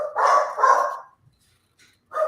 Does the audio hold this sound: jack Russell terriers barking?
yes